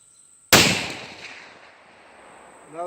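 A single sharp, loud shot from a Ruger Hawkeye rifle at an outdoor range, with an abrupt crack followed by a long fading boom and echo.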